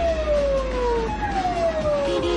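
A Japanese police patrol car speeds past on a city street during a pursuit, its siren wailing loudly close by and dropping in pitch as it passes over steady traffic rumble.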